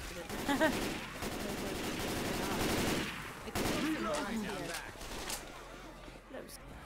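Rapid gunfire bursts ring out in Left 4 Dead 2 gameplay, a headshot among sharp repeated shots, with players talking excitedly over the action.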